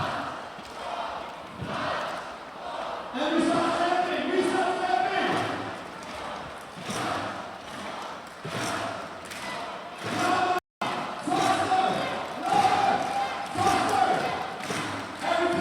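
Dodgeball crowd at a women's cloth gold medal final between Austria and Northern Ireland, cheering and shouting in loud swelling waves across the arena with thuds and calls mixed in, a commentator talking over it.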